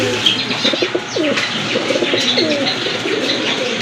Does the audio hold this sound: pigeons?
yes